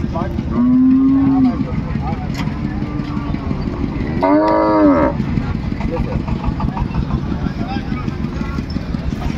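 A Sahiwal cow with her calf lets out two loud, drawn-out moos close by at a busy village cattle market, amid a constant crowd murmur and people talking.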